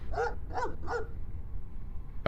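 Dog in the dark-fantasy video game Stoneshard gives three quick, evenly spaced barks, fairly close and clear over a steady low rumble, followed by a short sharp sound at the end.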